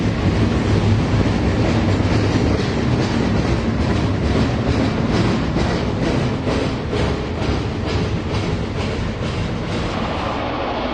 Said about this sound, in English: A single F7 leads a trio of daylight PAs on Train 27 through Soda Springs.